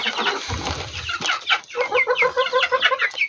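Chickens clucking busily at close range while eating maize feed, a dense overlapping chorus of short, repeated calls with no talk.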